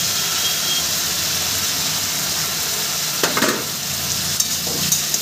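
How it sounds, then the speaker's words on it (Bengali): Pre-fried vegetables tipped into sizzling masala for a Raikhor fish curry with vegetables: constant hissing frying noise, then a few clattering scrapes and stirs in the second half, close by with no talk. "এবারে আমি এর মধ্যে ভেজে রাখা সবজিগুলো দিয়ে দেবো।"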